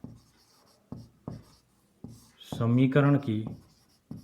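Pen or chalk strokes scratch out handwriting on paper while working a quadratic equation, short intermittent scribbles close by, with someone speaking briefly in the middle.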